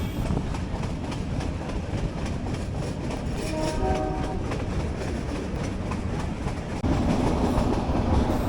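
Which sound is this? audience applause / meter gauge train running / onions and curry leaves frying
meter gauge train running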